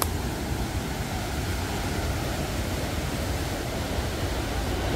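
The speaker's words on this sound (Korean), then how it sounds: "저 폭포 봐요" A waterfall in the Yumyeongsan valley campsite rushes steadily after heavy rain, a dense, continuous roar of water heard alone without voices.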